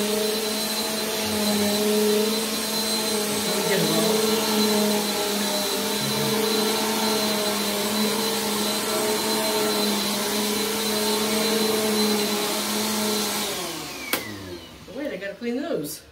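A Eureka or Bissell upright vacuum cleaner runs loudly with a steady whining motor hum, then spins down near the end while people talk over it.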